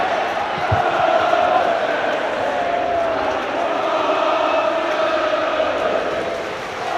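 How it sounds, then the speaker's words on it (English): A large Barnsley football crowd roars loudly and continuously in a match against Chelsea, a broad wash of cheering that swells slightly and holds throughout. "they'll be hearing this roar from the Barnsley crowd down in Sheffield"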